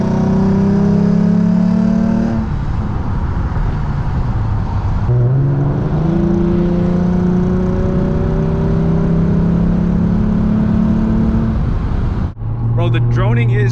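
A 2011 Lexus IS350 with its naturally aspirated V6 running with resonator and muffler deleted, giving a loud, constant in-cabin exhaust drone whose pitch slides as the engine speed shifts, with a brief sharp change near the end.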